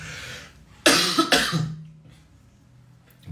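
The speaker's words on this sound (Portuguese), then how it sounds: "eu engasguei aqui e estou tossindo." A man coughs a few times in quick succession after choking, harsh and close, with some throat-clearing and faint background hum.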